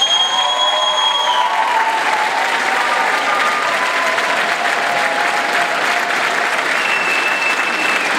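An audience applauds at an outdoor folklore concert in Valašské Klobouky, a dense, steady wash of many hands clapping that stays loud and even throughout, with faint whistle-like tones early on.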